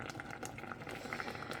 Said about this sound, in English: Boiling up in my witch's cauldron.